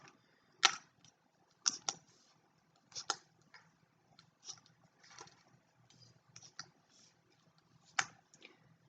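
Sewing clips snapped onto fabric beside zipper tabs while assembling a structured wallet without interfacing: a handful of sharp, quiet clicks at irregular intervals, close by, with soft handling rustles between them.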